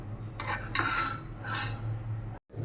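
Moong dal vadis tipped from a small bowl into boiling gravy, several clinks and scrapes of metal against the bowl and pot in short bursts over a low simmering hum, ending with a brief drop.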